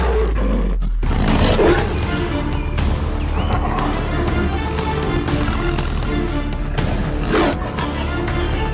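Wild animals roaring while fighting on the savanna, loud overlapping deep roars and growls with thuds and scuffling, a continuous dense din throughout with sharp bursts standing out.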